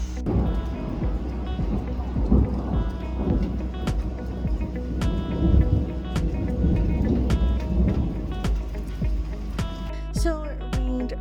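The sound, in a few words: thunderstorm with thunder and rain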